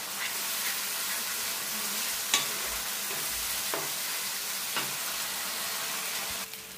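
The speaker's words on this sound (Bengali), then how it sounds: "এবার এটাকে আমি কড়াই দিয়ে দেবো।" Spice paste frying in a kadai while being prepared for a paneer dish: a steady close sizzle with a few sharp scrapes and clicks of stirring, no talk.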